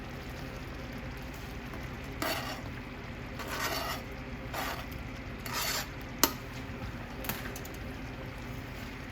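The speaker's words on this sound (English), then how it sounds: "I'm gonna go ahead and add my potatoes in there." Potatoes scraped and stirred into a thickened hamburger stroganoff sauce in a pot, with scattered metallic clinks and utensil scrapes over a steady background hiss, no talking.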